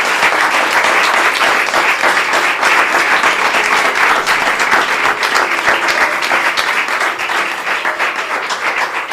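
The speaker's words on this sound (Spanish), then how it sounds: "Un aplauso para ella" Sustained, loud audience applause fills the room after a talk on self-esteem, dense clapping continuing evenly throughout.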